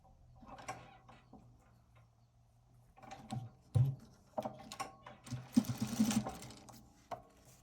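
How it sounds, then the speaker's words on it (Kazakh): A sewing machine stitches a fabric cover for a broom in short, quiet runs, its rapid mechanical whirring starting and stopping between pauses, with a brief louder burst near the end. "мынаның бойымен 1-2 миллиметрге тігіп шығамыз"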